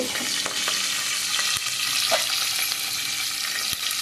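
Continuous bright sizzle of chilies frying in hot oil for a tempering, with a few light stirring clicks, close and fairly loud.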